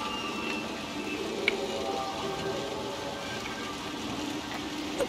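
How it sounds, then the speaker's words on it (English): Rain falling in the video game Little Nightmares 2: a steady, even hiss of rainfall with a few faint drips and small taps, no voices. "Plants are dying, drying on the rain, in the rain."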